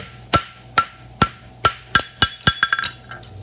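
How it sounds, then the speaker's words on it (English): A blacksmith's hammer forging metal on an anvil for a roadster, striking with the toe and then the heel: loud, sharp, ringing blows, evenly spaced at first, then quickening into a rapid cluster of lighter taps, close and alone. "I'm hitting with the toe of the hammer here, and then I'm hitting with the heel of the hammer here."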